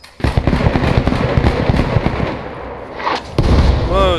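In the Post Scriptum war game, a tank shell explosion booms and then a dense rumbling of debris and crackling fire rolls on, with a second heavy impact near the end, all loud and close.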